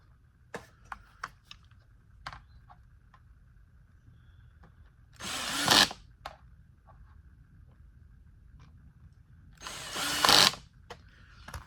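A power screwdriver drives screws back into a Bissell Cleanview Rewind Pet vacuum during reassembly, giving two short, close whirring bursts several seconds apart, with faint clicks and handling noises between them.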